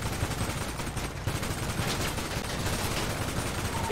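Dense, continuous video game gunfire from an enemy ball shooting at the players, a steady rattling barrage with one brief dip near the middle, loud throughout with no talk.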